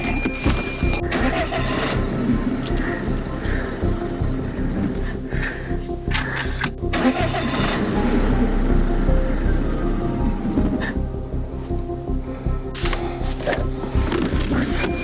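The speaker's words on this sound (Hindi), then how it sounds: "एक बार गाड़ी स्टार्ट करके देखते हैं।" A Tata Harrier engine cranks and starts after its air filter is cleaned, a loud close running rumble with knocks and clatters over it, continuous with no talking.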